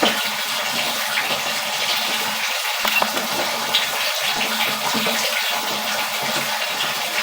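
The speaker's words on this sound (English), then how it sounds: "I'm running along with the tub water." Bathtub water runs through a house's sewer main line, a steady loud gush and trickle echoing inside the pipe, continuous for several seconds with no talk.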